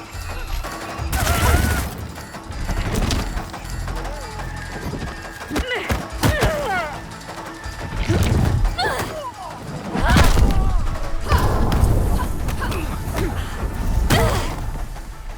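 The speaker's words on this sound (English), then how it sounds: "Where did she get artillery?" Artillery fire in the video game Unknown 9: Awakening, with repeated heavy booms and thuds spread across the scene, loud and close, mixed with clattering action sounds.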